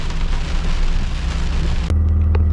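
Torrential rain pours down on a farm, a dense, loud hiss for nearly two seconds that cuts abruptly to a low steady hum, with no talking.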